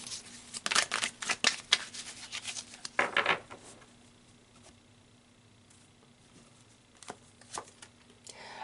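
Tarot cards being shuffled and drawn, with a burst of quick riffling and rubbing up close, then near quiet broken by a few soft card slides.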